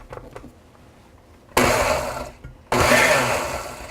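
A kitchen blender pureeing ingredients switches on abruptly in two loud, roaring bursts separated by a short pause, with light clatter before it starts.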